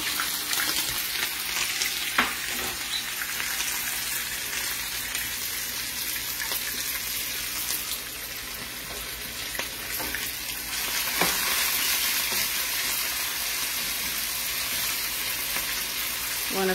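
Onion fries in a pot at home for a Puerto Rican chuck steak dish, with a loud, steady sizzle, occasional stirring scrapes and sharp spits over the constant hiss, and no talk.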